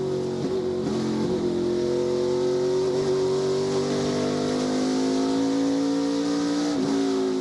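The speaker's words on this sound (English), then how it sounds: "I love riding the onboard of Jesse Love and listening to how little he's actually using the throttle." ARCA Menards Series race car at Berlin Raceway heard from onboard, a loud continuous engine drone whose pitch slowly shifts as the driver feathers the throttle through the turn, with no talk.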